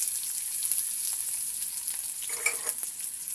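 Onion and mustard seeds sizzle in hot oil as a tempering for brinjal curd pachadi, a bright steady hiss with scattered small crackles and a short burst of stirring.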